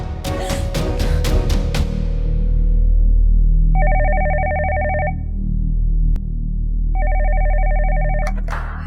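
A phone ringtone sounds in a Pakistani drama scene: two bursts of an electronic warbling ring, separated by a pause, over a low music bed that follows a fading chime.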